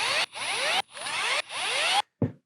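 Power drill used while assembling an S2 Atrax kit, three short close whirring bursts rising in pitch as the motor spins up, separated by brief stops, then a quick final blip.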